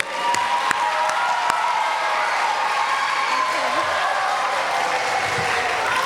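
Audience applause at a school event, steady clapping with some crowd noise holding at an even level for the whole stretch.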